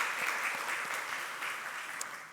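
A church congregation claps to welcome returning and newly registered members during a Sunday service, a steady wash of applause from many hands that fades slightly toward the end.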